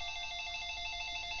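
A telephone rings in the video game Mother 3, a steady electronic tone holding across the short moment, clear and alone.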